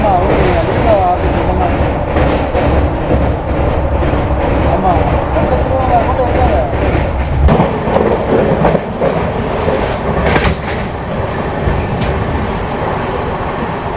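Tirunelveli–Mangaluru Express train skipping Maniyachi station at top speed, a loud continuous rail roar with rattling and clattering wheels, heard from on board while someone talks over it.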